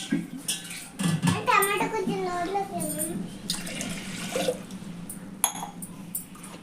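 Water pours from a small glass onto washed toor dal in a kitchen, a short gurgling splash rising in pitch as the vessel fills, followed by faint clinks of utensils.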